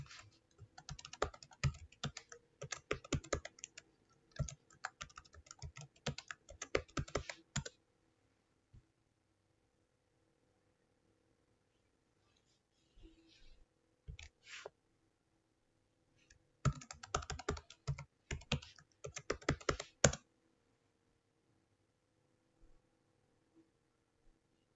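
Password typed on a computer keyboard during a Windows Server 2019 install: bursts of rapid, quiet key clicks in two main runs with a few isolated taps between and long silent gaps.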